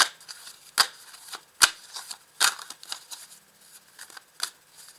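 Tarot cards handled and laid out on a table, crisp card slaps and slides arriving every second or so, close and fairly loud, with soft shuffling rustles in between.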